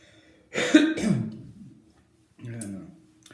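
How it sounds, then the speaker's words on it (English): A couple of rough, close coughs burst out, then a pause and another shorter throaty cough a moment later. "And I apologize for the coughing and the pepper burps."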